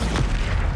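A Bombarda spell explodes in Hogwarts Legacy, a brief loud booming blast with a rumbling, noisy body filling the moment.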